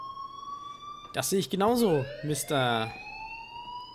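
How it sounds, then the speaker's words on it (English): A steady electronic alarm tone rings in the video game Life is Strange, with someone speaking German over it. "please turn off that alarm since that's your job"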